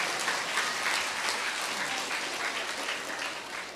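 Audience clapping at a Buddhist dharma talk, a dense, sustained wash of many hands applauding at steady volume that tapers slightly toward the end.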